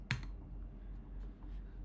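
A computer keyboard is used in a command-line terminal: one sharp, close key click at the start, then faint low hum and silence.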